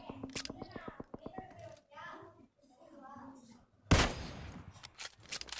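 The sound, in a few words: gunfire in the video game PUBG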